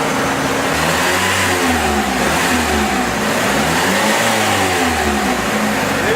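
A car with a treated bad transmission has its engine revved repeatedly, close by and loud, with rising and falling pitch over a steady idle.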